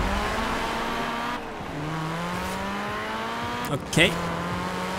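Engine of a fully upgraded car in Forza Horizon 4 holding a steady drone that climbs gradually through the gears, with a brief tyre squeal or scrape near the end and a voice speaking briefly.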